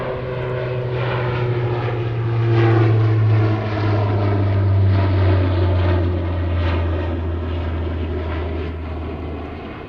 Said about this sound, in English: I believe the 767 is moving first